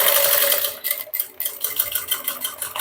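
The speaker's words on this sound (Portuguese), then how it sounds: "Bom, aqui terminando quase a costura, ó. De fechamento aqui do fundo," A sewing machine stitches the closing seam across the bottom of a small bucket-style handbag, running in a loud, steady close-up whir with a brief pause partway through before it resumes.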